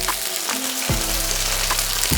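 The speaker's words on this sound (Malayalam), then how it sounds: "നമുക്കതിലേക്ക് കുറച്ച് കറി ലീവ്സ് ഇട്ട് കൊടുക്കാം." Curry leaves dropped into hot coconut oil burst into a loud, crackling sizzle that fills the moment, close and continuous with small sputtering pops.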